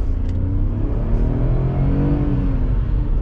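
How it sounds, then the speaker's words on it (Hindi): A 2023 Tata Punch running on CNG pulls away in first gear, its engine droning steadily with a low, close rumble that climbs gently in pitch as it accelerates, with no voices. "ये देखो मैं इसको वापस से फर्स्ट गियर में पिक करके दिखाता हूँ"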